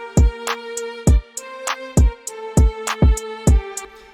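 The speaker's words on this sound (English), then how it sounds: "A very common kick pattern used in West Coast is something like this." A West Coast-style kick drum pattern in an FL Studio beat: punchy, booming kicks in a bouncing rhythm, about a dozen hits over a pitched melodic backing, loud and up front.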